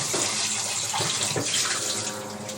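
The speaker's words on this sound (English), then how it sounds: "you can pour some cold water into this to check frothing, as because it is rice filled pressure cooker." Cold water pours steadily onto a hot pressure cooker filled with cooked rice, a close, continuous splashing rush of water lasting a couple of seconds.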